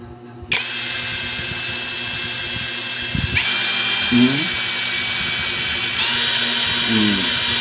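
KEELAT impact wrench running, a loud, steady high-pitched motor whine close by, with a few brief pitch shifts and a jump in intensity partway through.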